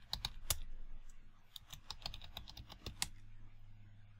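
Quiet, close clicks of a computer keyboard come in quick irregular bursts with short pauses as a Linux terminal command is typed to uninstall Composer.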